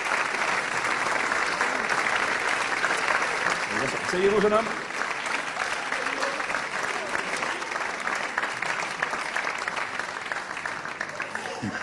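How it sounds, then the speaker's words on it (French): An audience applauds at a stage hypnosis show, steady broadband clapping that runs the whole time, with someone speaking French over it as subjects are seated. "On les applaudit?"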